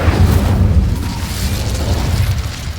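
Incendio fire spell going off in the Hogwarts Legacy video game, a loud, dense booming burst with a sustained rumble that stays strong across nearly three seconds, no voices over it.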